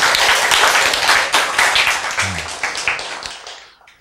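Audience applause welcoming a guest speaker onto a stage at a Korean talk, dense steady clapping from a crowd that gradually thins out over a few seconds.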